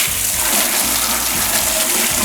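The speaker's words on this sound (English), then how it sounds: "I'm going to go ahead and use the trusty hose here and start spraying some of this down." A hose sprays water steadily onto the engine bay of a 1972 Mustang being cleaned for paint, giving a dense, close hiss with splashing and low gurgles and no pauses.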